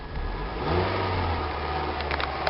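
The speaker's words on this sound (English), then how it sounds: "revving up the motor" A car engine revs up and holds a steady, loud drone through a car audio system with EQ gain turned up, a low rumbling tone rising early and then sustained at a constant pitch.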